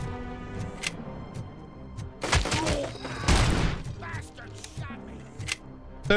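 Gunfire in RoboCop: Rogue City comes as scattered shots and sharp bursts, with two heavier volleys in the middle, loud and close, amid occasional game noises.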